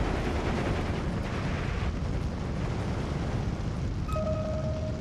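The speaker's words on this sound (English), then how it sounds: "So he's just getting destroyed by Nebelwerfer fire." Nebelwerfer rocket artillery barrage in Steel Division 2, a dense continuous rumble of overlapping explosions, loud and unbroken, with a thin tone at the end.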